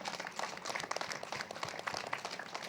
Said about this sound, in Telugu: దీనికోసం గట్టి క్లాప్స్ కొడదాం.